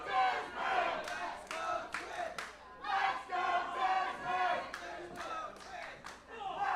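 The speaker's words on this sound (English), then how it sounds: "the crowd certainly sounding divided" A divided arena crowd at a fight roars and chants in surging waves, rival cheering sections trading loud bursts of cheers and shouts over a dense, reverberant hall ambience.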